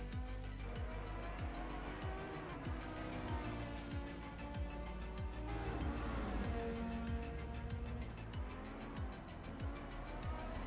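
A race car on the Oschersleben circuit in a sim racing game brakes hard, its engine note dropping through quick downshifts with a faint squeal, steady and close throughout.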